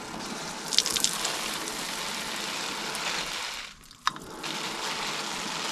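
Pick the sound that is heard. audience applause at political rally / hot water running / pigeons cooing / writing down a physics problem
hot water running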